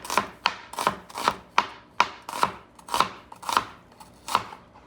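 A knife chops onions for a sauce on a board in about ten sharp, evenly spaced close knocks, loud and alone with no talking.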